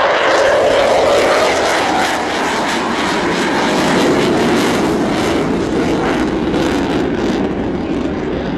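An F/A-18F Super Hornet jet roaring overhead at the Jones Beach air show, a loud continuous engine rush that shifts in pitch as it passes, with no talk.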